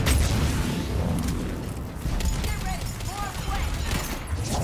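Gunfire from a weapon in Mass Effect 3 crackles amid a dense mix of game combat noise, with sharp bursts and booms running throughout and a voice speaking over parts of it.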